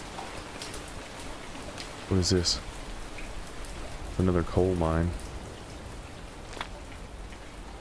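Continuous rain pours in the survival game Fountain of Youth, a soft, even hiss of drops on surfaces, briefly interrupted by someone talking during two short stretches.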